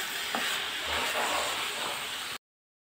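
Chicken keema mixed with a cup of yogurt and stirred in a pot for biryani gives a dense, steady hiss and sizzle with faint stirring movement, then cuts to silence near the end.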